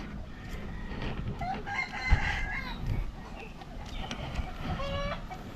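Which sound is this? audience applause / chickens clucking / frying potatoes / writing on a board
chickens clucking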